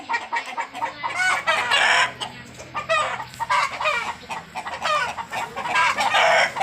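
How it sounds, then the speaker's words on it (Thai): A young rooster clucks repeatedly and breaks into short crowing calls, close by, with brief pauses between bursts. "อีกตัวหนึ่งนะครับ ไก่หนุ่มครับ"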